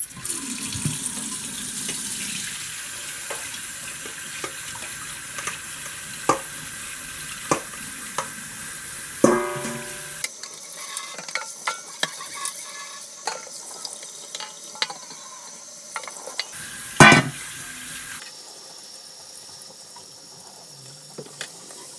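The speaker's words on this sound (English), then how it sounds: "We are going to rinse them" Soaked mung beans rinsed under a running kitchen tap, a steady close hiss of water with small clinks and splashes in a sink, the flow shifting partway through and a louder splash burst near the end; no talking.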